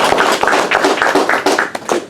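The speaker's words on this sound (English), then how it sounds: "I give a huge claps to sir." An audience at a legal lecture on the impeachment of a judge applauds the speaker, a close, dense patter of many hands clapping steadily for about two seconds with no talking.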